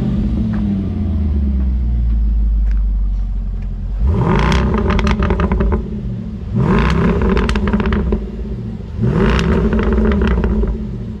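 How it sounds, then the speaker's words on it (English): A Land Rover Defender 110 V8 P525 with a Quicksilver stainless steel exhaust idles with a deep rumble, then revs hard three times in evenly spaced loud bursts, close up with no talking. "this is our Defender 19110 V8 Edition 2 exhaust."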